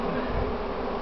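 Honeybees buzz in a young colony in a hive on a Polish apiary, a dense, steady, close hum filling the short moment without any voices.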